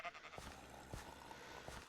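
Sheep bleats from the Minecraft video game, a few short, quiet bleats spread across a brief stretch with no talking.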